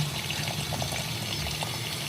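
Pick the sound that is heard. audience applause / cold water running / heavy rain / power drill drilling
cold water running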